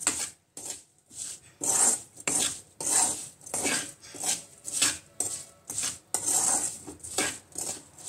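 Green chillies being stirred with spices in hot oil for a spicy pickle, with the heat off, a rhythmic series of about a dozen scraping strokes of a spoon against a pan, close and distinct.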